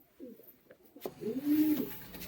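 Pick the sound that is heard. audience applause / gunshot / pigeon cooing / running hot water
pigeon cooing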